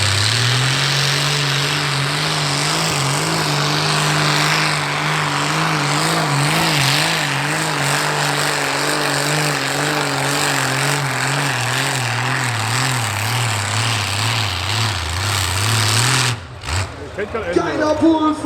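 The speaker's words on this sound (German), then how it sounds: "Geiler Pull vom Conti 12 Zylinder." A tractor-pulling machine with a 1000 hp Continental V12 engine roars loud and sustained through a long pull, its pitch wavering steadily, then cuts off abruptly near the end; a commentator's voice runs over it.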